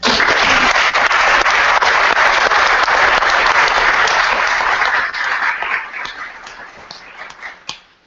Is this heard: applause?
yes